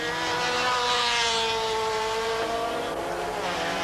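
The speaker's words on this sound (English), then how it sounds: "The puff of smoke will signify that the car has started" Race car in the 1992 UK Production Car Saloon Championship pulling away after a restart, engine roaring loudly with steady broadband noise and rising tones as it accelerates.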